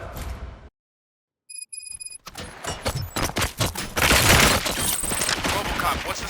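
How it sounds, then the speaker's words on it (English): Gunfire in a RoboCop video game crackles in rapid bursts after a brief silence, dense sharp reports building into a loud sustained fusillade with electronic tones. "Gunshots? What's going on?"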